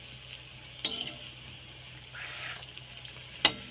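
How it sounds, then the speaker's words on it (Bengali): Raw plantain fritters frying in hot oil, giving a soft, steady sizzle with a few sharp clicks and clatters from turning the pieces over; no voices. "বেশ লাল লাল করে ভেজে নেব"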